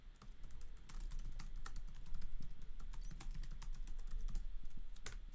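Rapid, close typing on a computer keyboard, with a steady run of light clicking key presses over a low background hum.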